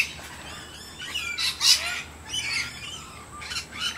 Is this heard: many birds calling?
yes